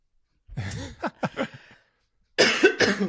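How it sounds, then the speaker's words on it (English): A person coughs several times in quick bursts with a throaty, breathy quality, then gives one more loud, harsh cough after a pause. "to cough on you"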